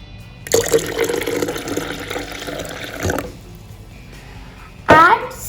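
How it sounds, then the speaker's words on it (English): Chilled water poured into a jar while making a summer soda drink, a steady broadband splash and trickle for about three seconds, then quieter, ending with a brief louder clink near the end. "Now add some chilled water"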